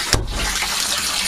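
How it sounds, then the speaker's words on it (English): Tap water runs steadily into a camper bathtub in a 1984 Skyline trailer, a close, continuous gushing fill with a brief splashy burst near the start and no talking. "I'll fill that bathtub up a little bit more,"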